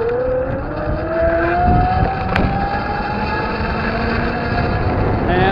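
Cars and a pickup truck pass on a road, with a steady loud tire and engine roar and rising, then falling engine tones as the vehicles go by close to the listener, and no talk.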